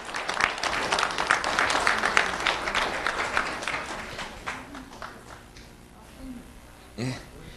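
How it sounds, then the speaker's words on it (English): An audience at a Lee County Sheriff's Office student recognition event applauds a student, brisk clapping from a modest crowd that fades after a few seconds, followed by a quieter stretch with a brief voice near the end. "Let's have a round of applause for Mario Monti."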